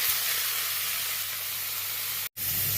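Water-soaked cucumber pieces hit hot oil with fried ginger for shukto, giving a loud, steady sizzling hiss that continues with only a brief break near the end.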